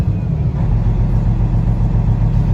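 The engine of a 2014 Peterbilt 388 glider kit truck runs at a strong, even idle, a dense low throb that pulses steadily close by with no talking over it.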